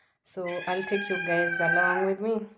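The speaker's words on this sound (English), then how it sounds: "Stop making noise. That's our cat." Pet cat meowing indoors, a drawn-out vocal cry mixed with a person talking over it.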